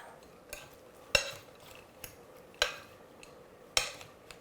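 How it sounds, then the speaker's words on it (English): A spoon stirs turkey salad with Greek yogurt and mayonnaise in a small bowl, giving soft, quiet scraping and a few sharp clinks against the bowl at an uneven rhythm, with no talking. "We're going to mix all of this up."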